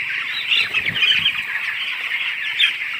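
A dense chorus of young chicks in a poultry shed, high-pitched peeping running continuously and fairly close for the whole stretch, with no voices over it.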